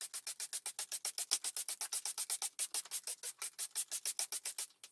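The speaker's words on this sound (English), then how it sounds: "Then thoroughly wet sand the entire wheel" Alloy wheel being wet sanded by hand with 600 grit waterproof sandpaper, a steady, fast rhythm of close, bright rasping strokes, about five per second, with no talking.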